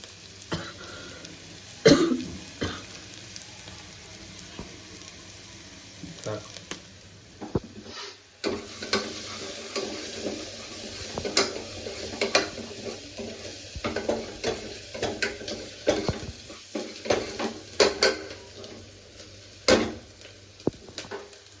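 A dal khichdi mixture with tomato fries in a pan under a soft continuous sizzle, with repeated spoon scrapes and clinks of stirring and a few nearby coughs and throat clearings.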